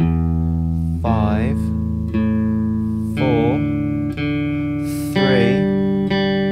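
Open guitar strings are picked one at a time with downstrokes, moving from the sixth string to the first. Each note rings out and sustains into the next while a voice counts the strings aloud over the tones.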